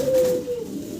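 A pigeon, an Andalusian-colour hen, gives a short soft coo close by, a single low throaty call lasting under a second.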